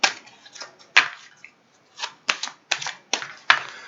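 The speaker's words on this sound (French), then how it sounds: "il faut battre les cartes" Playing cards are shuffled at close range before a board game, giving sharp riffling snaps and flicks in irregular bursts separated by short pauses, with no talking.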